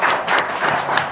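A church congregation claps in thanks during a year-end worship service, a brief burst of close applause with clear rhythmic pulses of clapping swelling and easing.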